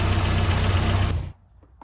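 Triumph TR4A engine on fast idle with valve noise, a loud steady rumbling idle with ticking that cuts off abruptly, leaving near silence.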